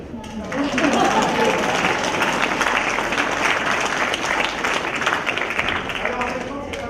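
Dense applause from a conference workshop audience at a French federation congress, steady and fairly loud throughout, with a voice heard over the clapping at the start.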